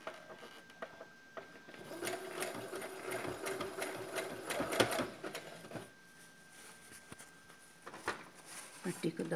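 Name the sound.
sewing machine stitching a frock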